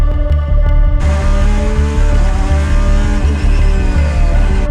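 Race cars pour out of the pit exit at Le Mans, a loud, dense roar of several engines revving and upshifting one after another, close by and continuous.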